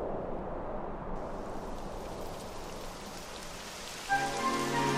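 Rain begins falling in Dragon Quest XI S on PS5, a steady soft patter and hiss of drops on surfaces, with music joining in near the end.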